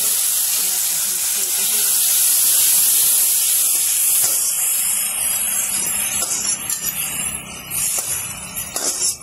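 Tomatoes dropped into a hot pan with fried chillies give a strong, steady hiss and sizzle that fades into uneven crackling spatter.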